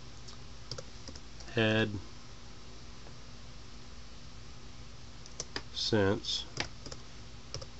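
Soft clicks from a computer keyboard patter lightly in the background, broken by two short bursts of someone speaking nearby.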